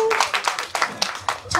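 An audience member claps at a live trot singing show, a quick run of about seven sharp close handclaps in an uneven rhythm with a faint voice underneath.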